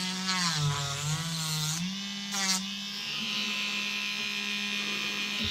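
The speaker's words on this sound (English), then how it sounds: "You'll tend to find when you're using a Dremel, it can you can slip" A high-pitched Dremel rotary tool whines steadily while drilling, its pitch dipping briefly under load before settling into a constant buzzing drone, close up with no talking.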